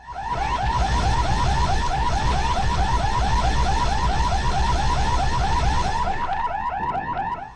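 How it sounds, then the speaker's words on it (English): A blaring prison alarm from the video game Warhammer 40k: Fire Warrior wails in a loud, steady, rapidly repeating warble for about six seconds, then cuts off abruptly, with no speech over it. "The main problem with the prison section is the blaring alarm, which is way too loud compared to everything else."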